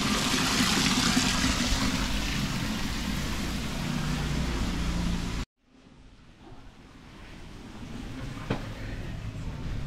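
An artificial waterfall feeding a koi pond gives off a steady trickling and splashing wash, loud at first, then cutting out abruptly and returning more softly.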